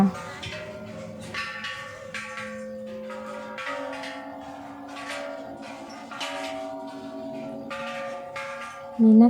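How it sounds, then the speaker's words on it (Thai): Temple bells ring in a slow series of resonant strikes, their tones lingering and overlapping, moderately loud against quiet surroundings, at Wat Phu Khao Thong. "ขึ้นไปก็จะมีระฆัง"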